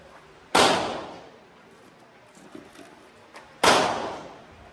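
Two sharp airsoft pistol shots, from a CZ Evo3 S1 or Anderson AM9, crack about three seconds apart at an outdoor target range, each with a short decaying tail and faint small knocks between.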